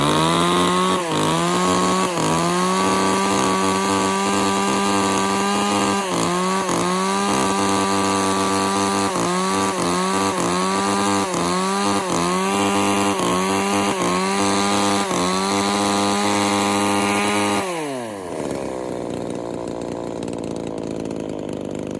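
A used Japanese chainsaw, a Tanaka unit, runs steadily at high revs during a test, its buzzing two-stroke whine wavering slightly in pitch before dropping back near the end, loud and close.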